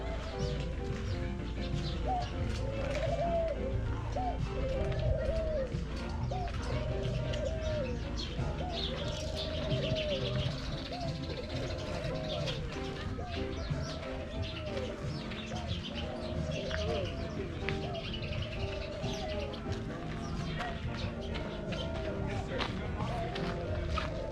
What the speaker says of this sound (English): we have an aviary with a bunch of the birds